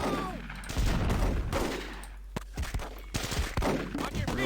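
Close Combat battle with machine gun fire in the hedgerows: rapid bursts and sharp cracks scattered over about four seconds amid rumbling combat noise, fairly loud.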